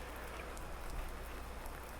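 Steady rain hisses in a Farming Simulator 19 game, a constant even wash of drops on surfaces with no talk over it.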